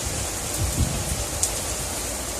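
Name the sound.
rain falling outdoors during storm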